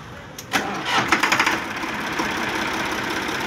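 A tractor engine cranks and catches after a few quick chugging bursts, then settles into a steady rumbling idle close by.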